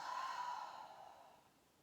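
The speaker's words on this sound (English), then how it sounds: "big deep breath in. And exhale." One slow, deep exhale during a yoga breathing exercise, a soft breathy rush that starts fairly full and fades out over a couple of seconds.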